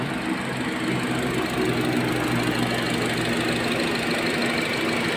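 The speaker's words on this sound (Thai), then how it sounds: "เครื่องเดินเรียบเป็นปกตินะครับ" A Honda Jazz 1.5 V automatic engine idles steadily nearby with an even, low mechanical hum and faint ticking, running smoothly without change throughout.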